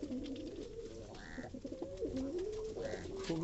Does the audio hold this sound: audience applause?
no